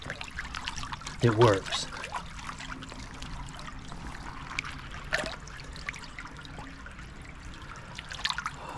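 Cold water trickling and pouring outdoors, a brief louder gush near the start followed by a faint, steady dribble, with a person speaking briefly over it.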